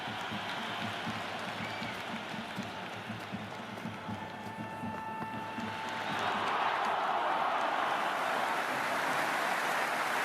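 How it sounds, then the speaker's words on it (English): A packed cricket stadium crowd at the IPL 2026 final between RCB and GT roars continuously and swells noticeably louder partway through, a huge distant wall of cheering. "The crowd is electric right now."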